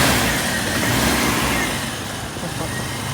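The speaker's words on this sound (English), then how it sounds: "That engine sounds sweet, eh?" A Mazda RX3 Savanna GT rotary engine idles nearby. The drone is steady and slightly uneven, with a voice talking over it.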